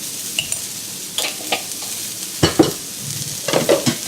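Vegetables stir-fried with salt in a pan, a low sizzle broken by several sharp spatula scrapes and tosses, clustered toward the second half, close and fairly loud with no speech.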